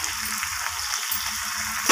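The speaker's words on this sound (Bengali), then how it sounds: "তো আদা রসুনটাকে দেওয়ার পর আমি চিকেনটাকে আবারও ভালোভাবে কষিয়ে নিচ্ছি" Chicken legs frying with ginger and garlic paste in a pan, producing a bright, steady sizzle up close with faint rhythmic stirring beneath, ending on a sudden louder clatter; no one speaks.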